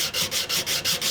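The blade of a Stanley #151 spokeshave is rubbed back and forth on a sharpening stone, making six quick, even abrasive strokes close to the listener, with no voices.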